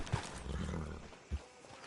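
Horse hooves clip-clopping in the Red Dead Redemption 2 video game, two distinct low thuds spaced about a second apart over a soft ambient bed, fairly faint and close.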